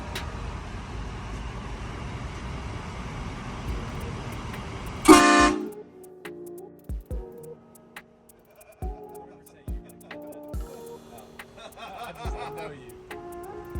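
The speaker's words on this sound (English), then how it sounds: "Hit that train horn for us." A loud, blaring train horn mounted on a lifted truck cuts through steady rumbling noise, followed by a series of short sharp knocks and faint honks.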